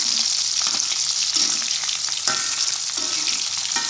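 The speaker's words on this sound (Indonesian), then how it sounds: "tambahkan ketumbar dan merica, masukkan semuanya, aduk-aduk hingga nanti kuning kecoklatan." Coriander and pepper spice paste sizzles steadily in a pan for a sauce of young long-bean leaves in turmeric coconut milk, with several soft scraping stirs of a spatula breaking through the continuous near hiss.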